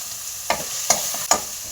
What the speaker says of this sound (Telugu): అల్లం వెల్లుల్లి పేస్ట్ అయితే వేసుకుంటున్నాను